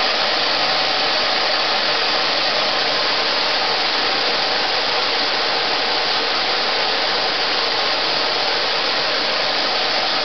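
Pressurized gas vapor rushes through a pipe in a loud, steady, broadband hiss that holds unbroken for the whole stretch, close up and alone.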